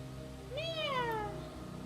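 A single cat meows once, a clear rising-then-falling mew lasting about a second, close and fairly soft over a steady low hum in a quiet room.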